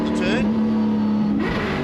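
A Touring Car Masters race car drifts at The Bend circuit, its loud engine roaring and rising in pitch as it revs. A commentator talks over it throughout.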